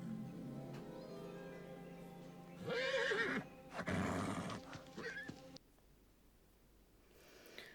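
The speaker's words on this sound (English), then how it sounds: "A horse." A horse whinnies loudly in a long, wavering neigh, rising and falling before breaking off into quiet.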